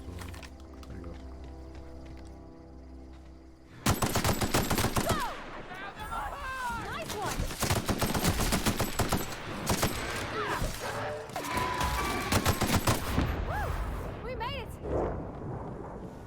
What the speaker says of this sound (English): Where's the hand rifle? That machine gun.